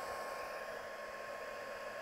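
A handheld dryer blows a steady, quiet stream of air over a stamped card to dry ink, a continuous even whoosh with no talking.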